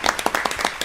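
Brief burst of applause welcoming a guest pastor, several hands clapping loudly and close in an uneven patter that lasts under a second.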